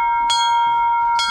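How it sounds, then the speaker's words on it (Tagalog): A church bell rings at a wedding at a flower farm in Houli, Taiwan, with two bright metallic strikes spaced about a second apart and a sustained ringing hum between them. "Pag tatlo yung kasal, ay pang tatlo yung bell"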